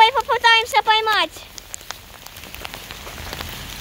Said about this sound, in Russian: Вот у нас настоящий град!